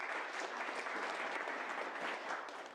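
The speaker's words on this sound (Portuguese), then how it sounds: "Uma grande salva de palmas para o nosso chefe por ter vindo aqui." Continuous applause from an audience during a mosque visit, many hands clapping in a steady, dense wash at moderate distance, fairly soft overall.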